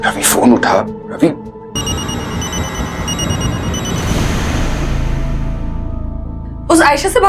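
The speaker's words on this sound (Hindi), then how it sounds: "रवि फोन उठा" A landline telephone rings steadily in a tense indoor crime drama scene, a continuous electronic trill that is loud and close, with people talking just before and after it.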